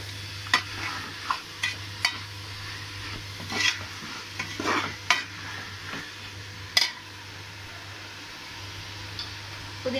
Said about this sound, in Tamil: வெங்காயம் வந்து நல்லா வதங்கணும் ஒரு முக்கா வதங்கி வதங்கணும்